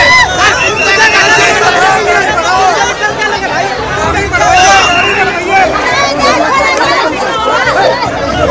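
Dense crowd chatter fills a packed railway station in Patna, India, a steady hubbub of many overlapping voices close around with no single speaker standing out, holding at an even level throughout.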